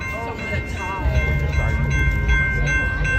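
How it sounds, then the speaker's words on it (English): A train passes near a crossing outside the San Diego Comic-Con convention, a steady low rumble of rail cars with a sustained tonal whine above it, loud and continuous over crowd noise. "When they tell us to stop, we stop because the train's coming."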